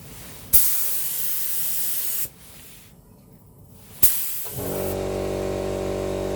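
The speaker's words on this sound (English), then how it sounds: "That'd be the compressor then." Steady pneumatic hiss starts and stops in bursts, then a compressor motor kicks in with a low, constant mechanical hum.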